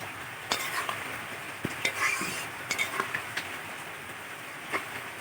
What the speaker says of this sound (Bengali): এই দেখো সর্ষে বাটা, তো এটা দিয়ে দেবো, দিয়ে একটু ফুটিয়ে নামিয়ে নেবো